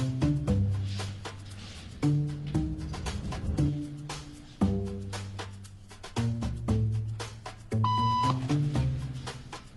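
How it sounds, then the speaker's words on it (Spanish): Electronic beep tones sound in a waiting room, with a few distinct beeps standing out over a steady bed of background music or tonal sound. No speech can be heard. "Un pitido significa que hay que levantarse"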